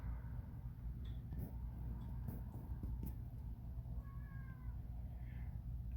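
A healthy house cat meows a few times, short faint calls standing out over a low steady rumble of background noise.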